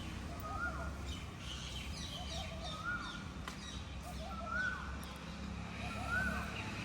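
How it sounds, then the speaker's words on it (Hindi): Birds calling in the morning outdoors, a repeated call sounding every second or so over a steady low background of wind and distant traffic, fairly faint. "चिड़िया चहक रही होती हैं"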